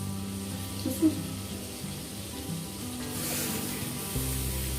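Butter melting in a pan on the stove gives a steady, soft sizzle close by, with faint kitchen clatter and a brief clink partway through, under low background hum.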